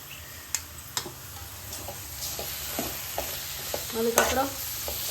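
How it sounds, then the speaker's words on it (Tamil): Chicken pieces stirred and frying in masala in a pan, a steady soft sizzle with scattered clicks and scrapes of a spoon against the metal. "கறியை போட்டு வதங்கணும்"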